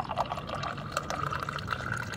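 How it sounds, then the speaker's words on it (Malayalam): Black tea is poured into a glass inside a tent, a soft, continuous trickle at close range that stays quiet throughout. "അങ്ങനെ നമ്മൾ നമ്മളെ ടെന്റിൽ നിന്നും ചായയൊക്കെ പകർത്ത് കുടിക്കുകയാണ്"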